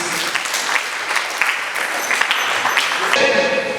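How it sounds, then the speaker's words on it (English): Sustained applause from an audience at a reunion ceremony, honoring a guest speaker, a dense wash of clapping that swells slightly toward the end. "another round of applause for our guest speaker"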